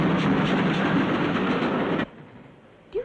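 Passenger train running on rails, loud rolling rumble with clattering rhythm for about two seconds, then cutting abruptly to a quiet interior tone with a faint brief sound at the end.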